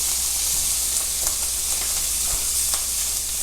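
Sirloin steak sizzles steadily in a pan with melting butter, a dense, even hiss with faint pops and crackles, close and loud with no talking.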